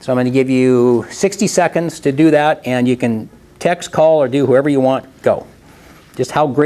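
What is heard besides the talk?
No distinct noise like a dog, phone or traffic.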